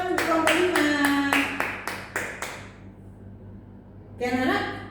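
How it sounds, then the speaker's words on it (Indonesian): Short burst of applause from a classroom for a student group, about eight rhythmic unison claps close by, fading out, with a voice speaking briefly after. "Tepuk tangan untuk kelompok 5."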